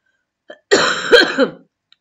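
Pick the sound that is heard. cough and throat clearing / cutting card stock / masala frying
cough and throat clearing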